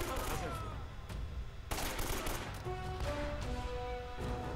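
Gunfire in the video game Uncharted: Drake's Fortune during a close-quarters fight, dense bursts of rapid shots over a loud, busy game soundscape with continuous music tones.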